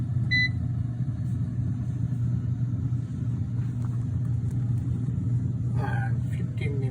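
An air fryer running while it preheats, giving a steady low hum and rumble throughout with a couple of faint electronic beeps. A voice speaks briefly near the end.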